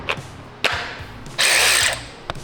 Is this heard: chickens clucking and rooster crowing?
no